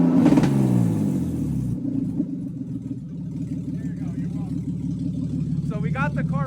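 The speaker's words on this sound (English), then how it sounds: "So we got the car to hold idle." A project car engine idling steadily after starting, a low continuous rumble with an initial rev that settles into an even idle, and brief high chirpy sounds near the end.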